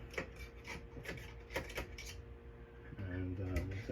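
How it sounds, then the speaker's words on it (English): A screwdriver clicks and scrapes as screws are backed out of a Pioneer car CD player from a 1993 Miata, several short ratcheting bursts close up, followed by a brief low hum. "get these screws out"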